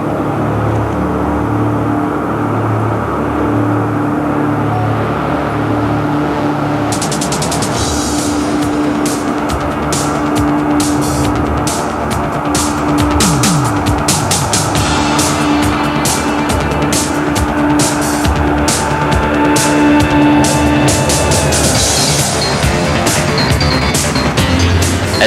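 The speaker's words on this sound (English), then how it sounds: "Pilot Bruce Hines ran up the engines, released the brakes, and started his takeoff roll." Northrop B-2 bomber engines spooling up and roaring through the takeoff roll, a loud continuous jet rumble and whine that builds and thickens midway, with no speech.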